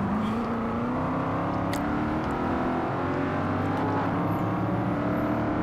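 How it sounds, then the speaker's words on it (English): In Forza Motorsport 4, a car engine over-revs on a downshift, holding a loud, continuous high-revving drone whose pitch slowly climbs, with no speech over it. "And I over-revved on the downshift."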